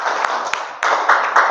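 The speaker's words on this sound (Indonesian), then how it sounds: "Kasih aplaus buat Adel" A classroom gives a short burst of applause for a student, several quick rounds of clapping over about a second and a half, close and fairly loud.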